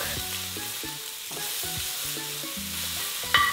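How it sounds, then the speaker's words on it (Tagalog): Onion, garlic and pork sautéing and being stirred in a pan for Filipino adobong sitaw, giving a steady close sizzle with a soft background tone and a brief clink near the end. "Ginigisa ko lang tong sibuyas kasama ng bawang."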